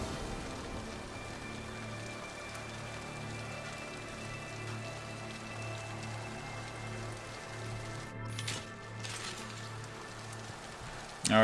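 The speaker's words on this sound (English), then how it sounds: "It's raining." Rain falls in the video game Mass Effect 2, a steady, soft patter of drops running throughout under a low tonal drone.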